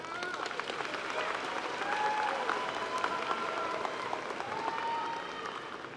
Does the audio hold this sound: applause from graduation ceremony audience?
yes